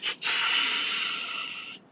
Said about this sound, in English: Little snort wheeze action.